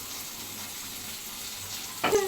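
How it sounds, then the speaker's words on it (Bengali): Eggplant slices frying in a pan, a steady soft sizzle running throughout, with a brief clatter near the end. "আমি এখন বেগুন ভাজি করেছি"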